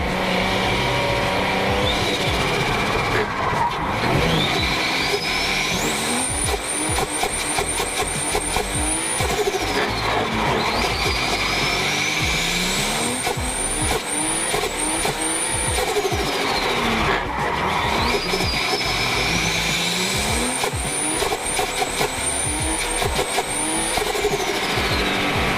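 A BMW E46 or E36 fitted with a hydraulic handbrake is driven hard, its engine revving and rising in pitch through gears with tire squeal, loud and continuous, no talk.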